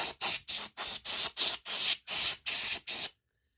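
Short, repeated bursts of compressed air hiss out in a steady rhythm around the wheels of model cars being cleaned, about ten sharp sprays in a row before stopping.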